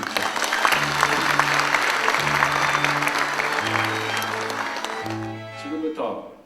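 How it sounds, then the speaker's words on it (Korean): Applause greets award recipients of a press and culture prize at a university's 87th founding anniversary ceremony, steady broad clapping filling the hall while sustained organ or band tones play beneath and fade near the end. "박수로 환영합니다."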